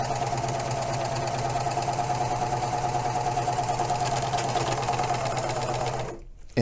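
Baby Lock 793 PG serger overlocking the edge of a seam allowance, a loud rapid mechanical whirring chatter running continuously, then cutting off abruptly near the end before a brief clunk.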